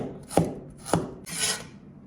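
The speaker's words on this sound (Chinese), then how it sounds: "首先呢把姜给切成片" A kitchen knife slicing fresh ginger on a wooden cutting board, two sharp, close chops followed by a softer scraping rub, with no talk.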